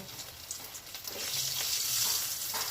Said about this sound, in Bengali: তেল তো গরম হয়ে গেছে তাতে একে একে দিয়ে দিচ্ছি সিদ্ধ আলুগুলো এই আলুগুলো একদম লাল লাল করে ভেজে নেব